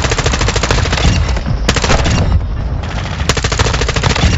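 Video game gunfire rattles in rapid, loud machine-gun bursts that run nearly continuously with brief pauses, close and dominant throughout.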